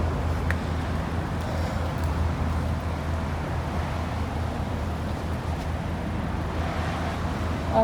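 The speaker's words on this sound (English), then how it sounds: "block out the traffic noise" Continuous road traffic near Story Bridge by Kangaroo Point Cliffs in Brisbane forms a dense, low, steady rumble with a few faint passing ticks and no clear voices.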